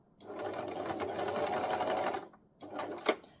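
A sewing machine stitches fabric in reverse, running steadily for about two seconds, then pausing briefly before a second, shorter burst of stitching. No one speaks.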